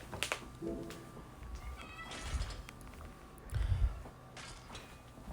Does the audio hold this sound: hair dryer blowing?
no